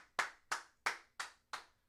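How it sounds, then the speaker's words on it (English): Five sharp hand claps ring out alone at an even, steady pace, close and crisp, each one fading quickly before the next, in a morning talk show studio. "Let's clap for this guy."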